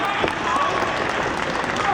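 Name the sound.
crowd applauding a wrestling match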